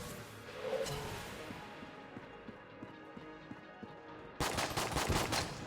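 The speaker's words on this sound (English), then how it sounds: "That was just an explosion" A blast in the Enter the Gungeon video game comes from a burst of sharp, rapid gunfire-like cracks that hits abruptly late in the clip, loud and close after a stretch of quieter clicking game sounds.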